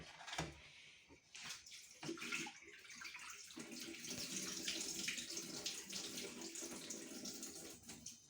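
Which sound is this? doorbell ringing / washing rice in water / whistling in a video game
washing rice in water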